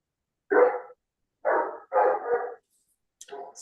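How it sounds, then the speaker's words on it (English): A dog barks during a video call: four short, separate barks spaced about a second apart, fairly close and clear against near-silence. "Sorry about my dog."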